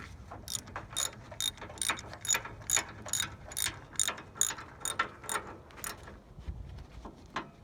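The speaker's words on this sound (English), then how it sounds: "We don't want to over tighten it, but we want to make sure it's all the way down on the post." A hand ratchet tightens the nut on a car battery's negative terminal, giving a rapid series of crisp, close clicking strokes in a steady rhythm that slows near the end.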